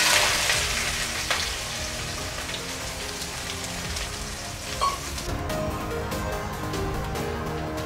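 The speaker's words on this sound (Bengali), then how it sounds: "ফোড়ন ভাজা হয়ে গেছে, পেঁয়াজ কুচি দিয়ে দিচ্ছি" Chopped onion added to hot oil with fried cumin seeds in a kadai, giving a dense, crackling sizzle like rain that stays steady throughout, close and moderately loud, with a light utensil knock along the way.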